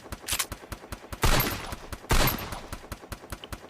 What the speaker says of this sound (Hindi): ये पिस्टल कितनी ओपी है। मैंने नॉक कर दिया सिर्फ 2 बुलेट्स में